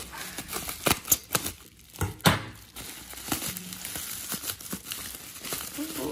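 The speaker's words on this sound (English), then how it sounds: "Oh, we need to use scissors." Plastic toy packaging for vinyl figures crinkles and crackles while scissors snip through it, a string of close, sharp clicks and rustles at irregular intervals, fairly quiet.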